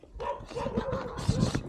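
A dog nearby gives a run of whiny yips and whimpering barks, moderately loud and close, repeating unevenly over a couple of seconds.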